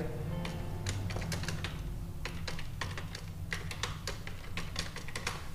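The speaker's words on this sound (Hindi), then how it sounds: "हमारी टाइपिंग हो रही है" Fingers type steadily on a computer keyboard, entering Hindi text in a Remington Gail font, with bursts of close, crisp key clicks separated by short pauses and no voices.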